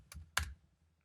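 Two quick keystrokes on a computer keyboard, soft and close, followed by near silence.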